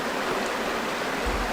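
A stream flows past an old water wheel house, giving a steady, close rush of water with no voices.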